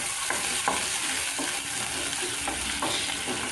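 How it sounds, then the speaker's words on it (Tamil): Chopped onions fry in oil in a pan for Tamil eggplant kuzhambu, giving a steady soft sizzle with a few light stirring scrapes, fairly quiet and close, with no voices. "வெங்காயம் நல்லா வதங்கட்டும்."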